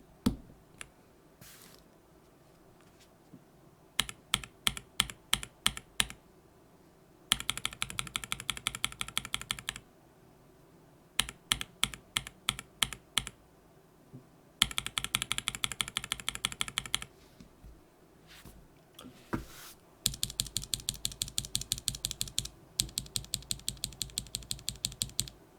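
Bursts of typing on tactile Everglide Bamboo Green keyboard switches with keycaps fitted: close, crisp clacks in short runs and faster rattling flurries, separated by pauses, with no talking.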